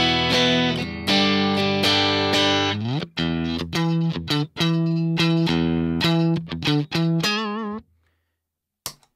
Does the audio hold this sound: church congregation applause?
no